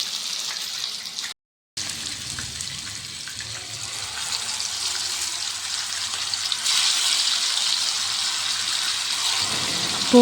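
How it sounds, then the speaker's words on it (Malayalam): Chicken frying in a pan in a home kitchen in Mysore gives a steady, loud hiss of sizzling oil. It drops out briefly, then swells a little louder toward the end, with no talking. "അപ്പോൾ ചിക്കൻ ഇവിടെ പൊരിച്ചുകൊണ്ടിരിക്കുന്നുണ്ട്."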